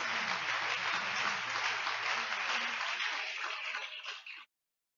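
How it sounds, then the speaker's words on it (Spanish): Church congregation clapping in praise during an evening sermon, a steady, fairly distant wash of applause lasting about four seconds before it cuts off abruptly. "Dale un aplauso a Cristo Jesús."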